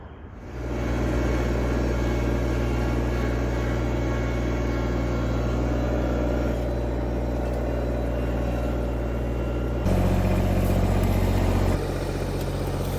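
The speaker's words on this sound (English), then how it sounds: "I'm gonna get the tractor fired up here and start moving that dirt pile." A tractor engine starts up and idles with a steady low diesel drone, close and loud, then shifts to a heavier pitch near the end as it works a dirt pile at a pool deck site.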